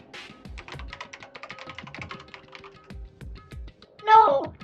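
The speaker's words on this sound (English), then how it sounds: "Kyoko's fingers glided across the keyboard." Fingers type quickly on a computer keyboard in a steady run of light, close key clicks, with a few heavier taps, pausing briefly before a voice speaks near the end.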